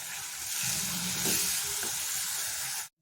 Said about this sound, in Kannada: ಇದರಲ್ಲಿ ಸ್ವಲ್ಪ ಹುರಿತೀವಲ್ವ ಹಸಿ ವಾಸನೆ ಹೋಗುತ್ತವಾಗ